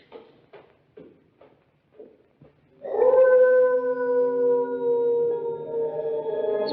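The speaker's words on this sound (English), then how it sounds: "It's probably a dog caught in a trap." A long, mournful canine howl like a dog caught in a trap, preceded by a few short faint yips and whimpers, then rising into a sustained loud wail from about three seconds onward.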